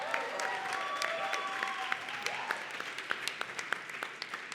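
Audience applause at a literature festival reading, a dense, steady clatter of many hands clapping close by that carries through the whole stretch without thinning, with a few sharper, louder claps standing out near the end.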